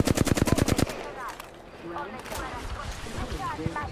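Rapid bursts of automatic gunfire in the video game Apex Legends ring out loud and close for the first second, then sparse distant shots and game effects continue under a player's talk.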